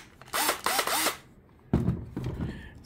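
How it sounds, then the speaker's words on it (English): A cordless drill, the kind used in auto upholstery work, whirs in three short close bursts, then spins up again for two longer runs with a ratcheting edge. "screw gun or electric drill or cordless drill or battery powered drill"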